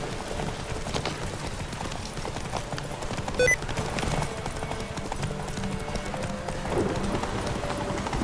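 Horse hooves clip-clop steadily on the ground in The Witcher 3 as a mare is ridden. The galloping beat stays continuous and close throughout, with a brief sharp accent midway.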